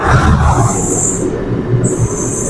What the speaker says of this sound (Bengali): তো দেখো একটা ট্রেন ওই দিক থেকে যাচ্ছে